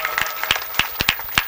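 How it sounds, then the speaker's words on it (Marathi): An audience at a Marathi kirtan gathering claps for the sound system crew, a loose run of sharp, uneven handclaps, some close and loud, others softer and scattered, with faint crowd murmur underneath. "वा, जोरात टाळ्या वाजल्या."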